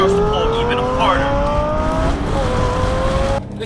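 A Lamborghini Gallardo engine accelerates hard, its pitch rising steadily through the revs before a sharp drop at the end, loud and close from inside the car.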